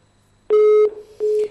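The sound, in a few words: dropped telephone call, busy tone on the line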